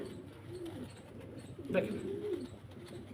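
Racer pigeons, a pair of red-check racers, coo softly in a loft with a rolling low murmur rising briefly near the middle, while someone speaks a word over them.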